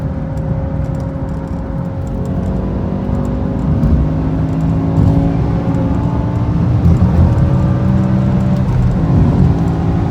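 A BMW E60 M5 accelerates hard along a freeway, its engine drone steady and loud from inside the cabin, pitch climbing and dropping as it shifts up through the gears at high speed.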